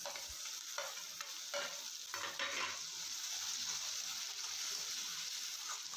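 Chopped ripe tomatoes sauté in hot oil for mutton kulambu, giving a steady broadband sizzle with a few scraping stir strokes of a spatula in the pan throughout; no talking.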